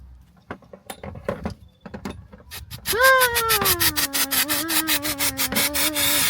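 Hands being scrubbed clean in a garage after removing the EGR from a 1.9 TDI engine: scraping rubs at first, then a loud, close, rhythmic squeaky rubbing over a sustained whine.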